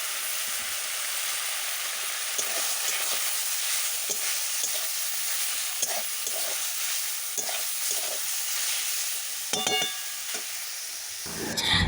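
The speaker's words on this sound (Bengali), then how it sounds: "এখন আমি শাকটাকে ভেজে নেবো" Leafy greens, already partly boiled, fry in a wok with a steady broadband sizzle and intermittent scraping stirs, a brief clatter near the end; no voices.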